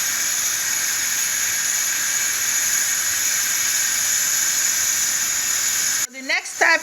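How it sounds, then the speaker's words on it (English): A blended mixture is poured into jollof rice in a hot pot, making a steady, loud steaming hiss that runs for about six seconds before it cuts off and a voice begins talking. "we're now introducing everything that we blended straight into our rice."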